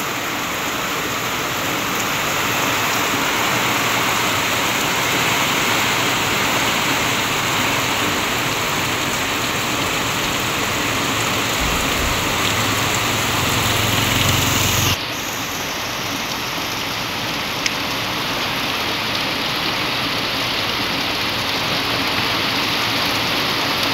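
Heavy rain pours outside a house while runoff rushes along the road, a loud, dense, unbroken roar that shifts slightly in tone partway through and continues without pause.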